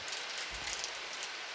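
Rain falls steadily in a rainforest, a soft continuous wash of hiss and patter at low volume with no voices.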